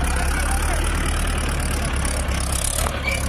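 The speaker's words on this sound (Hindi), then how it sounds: "ये देखो बेटे निकल रहा है, पूरा जोर लगा रहा है जी।" A Mahindra 575 tractor labours under a heavy sugarcane trailer load, its diesel engine droning steadily and loudly close by with a low, throbbing rumble.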